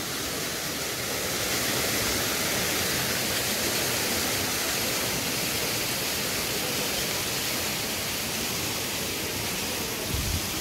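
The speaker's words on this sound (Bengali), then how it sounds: "এখান থেকে একটা ছোট্ট ধারা নেমে আসছে" A small mountain stream in the Rangeet valley rushes steadily in a continuous, broadband wash of flowing water, close and unchanging, with no voices.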